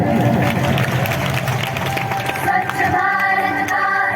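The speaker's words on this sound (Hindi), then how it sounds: "जोरदार ताली होना चाहिए।" Audience clapping after a school play on cleanliness at Aabha Public School, Nirmali: a steady, dense round of applause from a crowd, loud and continuous throughout.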